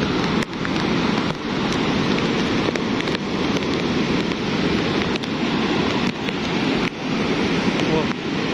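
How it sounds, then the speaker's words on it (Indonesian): Heavy rain pouring steadily during the Semeru lahar flood near a broken embankment, a dense continuous hiss with rushing water beneath and occasional brief knocks, loud and close throughout. "Hujannya gak berhenti-berhenti."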